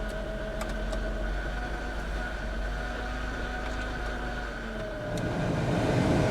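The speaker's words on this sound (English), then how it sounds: "let's see if the AC works." A car's air conditioning blower runs with a steady, close whooshing rush that swells a little louder near the end, with no talking.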